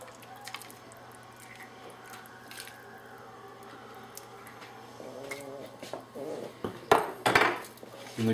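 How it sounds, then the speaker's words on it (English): Homemade French onion soup ladled from a simmering pot into bowls, with soft liquid pours and a few sharp ladle-and-dish clinks growing louder near the end over a steady low kitchen hum. "Transfer it into the bowls."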